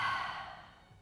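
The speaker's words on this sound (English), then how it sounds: "Exhale through the mouth. Release, cleansing breath out." A single soft cleansing breath exhaled through the open mouth during a yoga session, a gentle airy sigh that fades over about a second, close and quiet.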